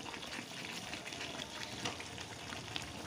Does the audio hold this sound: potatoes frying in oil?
yes